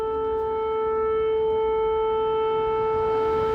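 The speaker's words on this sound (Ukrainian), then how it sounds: "Який псує все повітряна тривога." Air raid siren in Ukraine wailing on a steady sustained tone, loud and unbroken, with a faint background hum and no voices.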